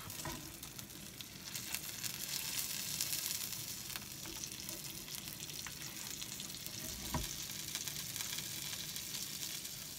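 Pork filet mignon sizzles steadily in a pan while it cooks for a pepper sauce recipe, giving an even, close frying hiss with a few crackles and no talking.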